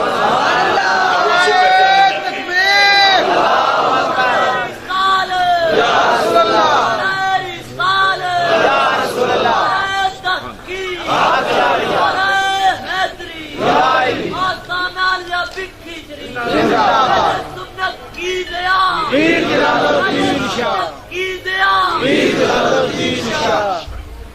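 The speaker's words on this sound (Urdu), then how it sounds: "آپ نے نعرے بہت لگائے ہیں" Loud crowd at a religious gathering chanting slogans in repeated rhythmic bursts, many voices rising and falling together, continuous and close throughout.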